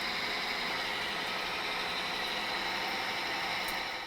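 A lathe turns an excavator pin at 1,000 RPM, producing a steady, even mechanical whir and hum that holds constant throughout without breaks.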